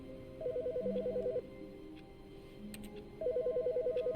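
An office desk phone rings in The Stanley Parable: two warbling electronic ring bursts about a second long, separated by a pause, moderately loud in a quiet room.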